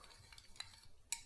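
A spoon stirs instant coffee and hot water in a cup, making quiet clinks and swishing with a few sharper taps against the rim, close and soft.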